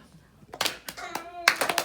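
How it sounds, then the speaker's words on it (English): Several people clap their hands together in a storytime group, a quick cluster of sharp claps with a voice and singing breaking in between, close and fairly loud. "we're going to clap."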